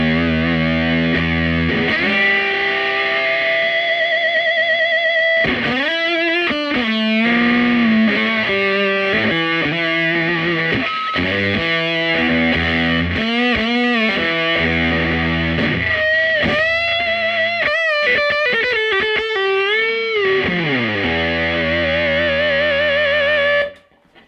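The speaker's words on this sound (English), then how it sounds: "I think it's early 70s Solar Sound tone bender" An electric guitar runs through an early-1970s Solar Sound Tone Bender fuzz pedal, playing loud, thick, sustained distorted notes and bends in a continuous phrase with no talking.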